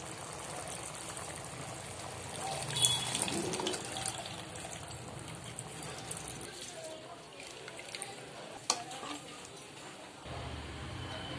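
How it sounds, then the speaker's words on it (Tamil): Water poured and trickling into a kuzhambu gravy mixture in a kitchen, a soft running, splashing stream that fades and returns, with faint clinks. "இன்னும் கொஞ்சம் தண்ணி சேர்த்துக்கலாம்"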